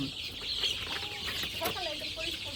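Chickens cluck in short, irregular bursts nearby over a steady hiss of background noise, with a few higher squawks.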